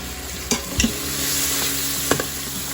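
Ground spices, turmeric, coriander, cumin and sour yogurt sautéed and stirred in a pan with tomato, a steady close sizzle broken by a few sharp scraping stirs of the spoon.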